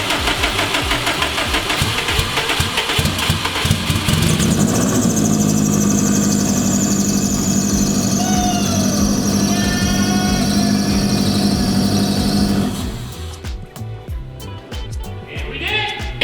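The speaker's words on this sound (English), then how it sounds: "For having different CC injectors, nothing connected, like that actually idled pretty well." The engine of an all-wheel-drive Mazda Miata with a new fuel system and mismatched injectors starts and idles loudly at close range, a rough, steady mechanical drone that cuts out near the end, leaving quieter background noise.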